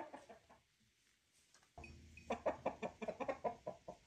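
Chickens cluck in a rapid run of short calls after a quieter stretch, close by and moderately loud with no talk over them.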